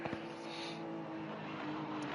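Race cars in a racing video game speed out of the pits at the Nürburgring GP circuit, a steady blended engine drone with a sustained tonal whine, loud and continuous.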